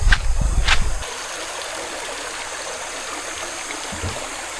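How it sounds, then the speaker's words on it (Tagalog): A river's water flows steadily at a Laguna campsite, a continuous broadband rush with a louder, rumbling moment at the start that settles into an even, gentle wash. "Tunog ng daloy ng tubig sa ilog"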